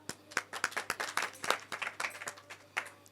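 Clapping in thanks at a civic press gathering in Haridwar on Ganesh Chaturthi: sparse, uneven handclaps from a small group, each sharp and distinct, a dozen or so over a few seconds at moderate distance.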